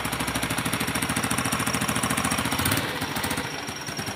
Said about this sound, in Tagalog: Medyo sumisipo siya kasi butas yung tambutso niya.